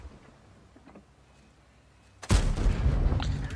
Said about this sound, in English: got my first shot in